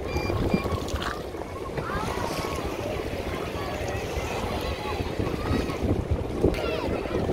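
Large three- and four-deck river launches at Sadarghat in Dhaka: a dense, steady wash of engine drone, water and wind noise close to the microphone, with people talking underneath.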